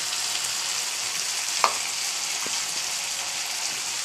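Gram flour curry frying in a pan, a steady broad sizzle held throughout with one brief scrape of stirring near the middle, close and even, no voices.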